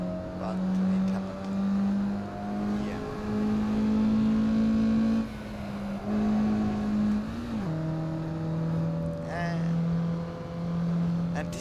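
Mazda MX-5 engine in the Assetto Corsa racing game, a steady droning note that rises and holds through repeated revs, dipping briefly mid-run before climbing again, loud and continuous.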